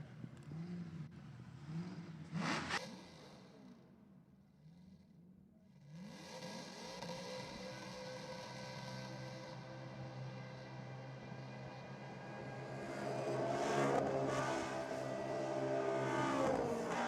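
Cars doing burnouts at a Sydney drag racing night, engines revving and tyres screaming from a distance, with a loud rising roar building near the end over crowd ambience.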